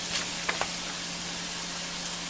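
A steady, loud sizzle of frying onion, garlic and tomato fills the pan as grated carrot goes in, with a couple of faint clicks early on and no talking.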